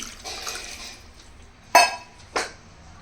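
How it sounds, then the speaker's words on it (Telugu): Two short splashy bursts of water hitting a cooking pot of country chicken pieces, close by, after a stretch of low background hiss. "ముక్క మునిగేంత వరకు వాటర్ వేసుకుంటున్నాను"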